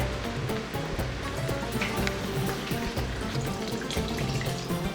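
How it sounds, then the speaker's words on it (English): Water pouring steadily into a cooking pot while making ouzi, a continuous splashing rush that lasts several seconds without a break. "Now I'll add the water."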